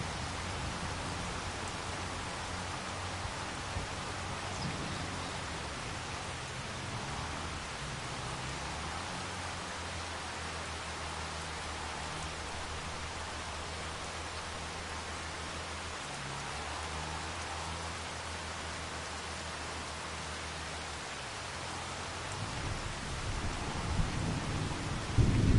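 Steady rain hiss with low rumbling thunder in the video game Riverbend Springs, a continuous soft downpour carrying a long rolling thunder growl through the middle and a louder swell at the end, no voices.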